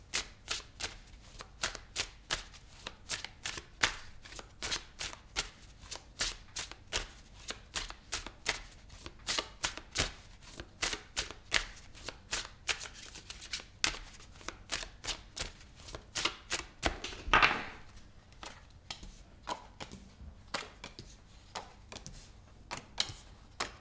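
Tarot cards being shuffled by hand, a long run of crisp, rapid riffles and slaps in an irregular rhythm, close and clear with no talking, broken briefly near the end by a louder rustle.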